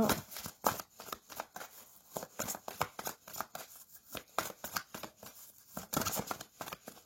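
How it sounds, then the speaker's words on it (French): Heart chakra oracle cards being shuffled and drawn, a close run of quick papery riffles and flicks repeating through the clip with a few soft words spoken. "je vais prendre 3 cartes pour mes petites étoiles"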